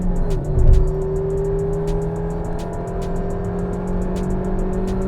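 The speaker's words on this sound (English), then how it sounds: "And then you rev a Japanese petrol engine," Japanese 1.5-litre naturally aspirated petrol engine revving, a loud, steady engine drone with sustained harmonic tones holding at a fairly constant pitch, heard from inside the car over road noise.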